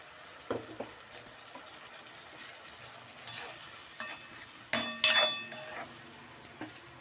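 Tomato puree sizzles and bubbles as it simmers in a pan, with scattered clinks and scrapes of a utensil against metal, fairly quiet overall.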